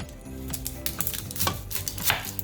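A knife chops onion on a cutting board in a rapid run of sharp, irregular taps, moderately close, with faint kitchen clatter underneath.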